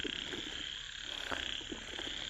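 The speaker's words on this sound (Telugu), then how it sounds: "పెద్ద పెద్ద కప్పలు మొత్తుకుంటున్నాయి" Large frogs croaking near water at dusk, a steady chorus of repeated croaks over a constant insect-like hum, with no voices.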